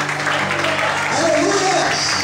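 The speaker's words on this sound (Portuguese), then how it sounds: "Onde podem aplaudir o Senhor bem forte?" A church congregation at an evening worship service claps together, the applause mixed with sustained musical tones and voices throughout.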